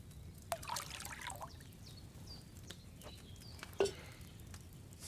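Wine from a pitcher trickles and pours into a cauldron in Kingdom Come: Deliverance 2, a faint, steady liquid stream with a couple of sharp clinks, heard alone in a quiet room.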